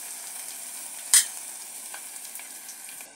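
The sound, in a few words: mint, garlic and coriander frying in oil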